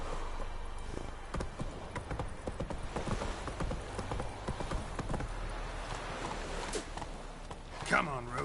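Hooves of the horse Roach clip-clopping in The Witcher video game, a steady close walking rhythm of hoof strikes with some background game sound and a brief whinny-like tone near the end.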